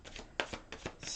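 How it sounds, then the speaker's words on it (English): A deck of tarot cards is riffled and shuffled by hand, with soft papery flutters and several sharper snaps close up, fairly quiet and with no talking. "I'm going to shuffle them again"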